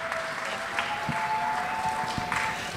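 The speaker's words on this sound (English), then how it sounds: "Give her an applause" An audience at the Mount Vernon Jazz Festival applauds Miss Hall, the concert's director. The clapping is dense and steady, with no break and a few louder swells along the way.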